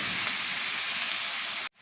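Leafy greens hitting a hot, uncovered pan with fried onion give a loud, steady hiss of sizzling that runs evenly, then cuts off abruptly.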